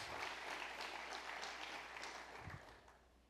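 Congregation applauding during a church family service, a dense steady wash of many hands clapping at moderate distance that thins and fades toward the end, with no talk over it.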